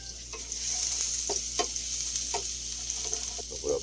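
Garlic fried rice (sinangag) sizzles in a hot pan, a steady crackling fry broken by repeated scrapes and taps of a spatula stirring the rice, close and clear with no talking.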